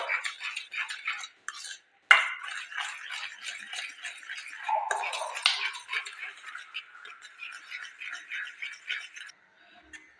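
A spoon or whisk mixes an egg in a bowl for banana cake batter, giving soft quick clinks and scraping strokes in an uneven rhythm, fairly quiet and close, with no talk.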